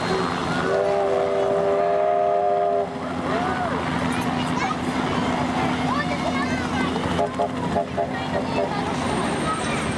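A train horn sounds in a sustained blast near the start, then steam locomotive 3265 rumbles and clanks as it departs Maitland Station, with voices talking over it.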